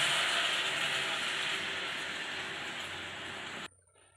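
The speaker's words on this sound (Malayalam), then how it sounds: "ഞാനിപ്പോൾ ഇതിന് ഒന്നര കപ്പ് വെള്ളമാക്കി ഒഴിച്ചു കൊടുക്കണം" Water poured into a pan of home-style chicken curry gives a steady, loud hissing rush that holds for several seconds and then cuts off abruptly, leaving near silence.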